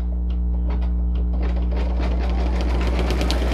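An embroidery machine stitches a tack-down line on a towel with fusible web, giving a steady, close, rapid mechanical chatter over a constant low motor hum, with no voices.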